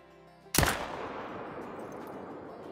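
A single sharp hunting-rifle shot at a whitetail buck in Call of the Wild, loud and sudden, followed by a long rolling echo that fades slowly across open country.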